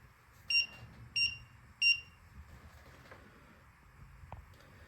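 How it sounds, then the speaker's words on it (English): A small Arduino Uno buzzer gives three short, shrill beeps at even intervals against a quiet background. "When the system detects too much light or too little light, the buzzer sounds."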